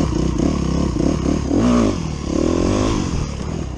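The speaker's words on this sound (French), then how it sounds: "faire un wheeling le plus lent et le plus haut possible" A 125cc motorcycle on a closed circuit holds a slow, high wheelie, its engine droning with rising and falling revs as the rider balances, loud and close with a light mechanical clatter.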